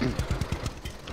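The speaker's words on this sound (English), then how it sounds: "Tractor coming through." An old tractor engine in Lumberjack's Dynasty, a loud, close rhythmic chugging with rapid regular knocks for about a second.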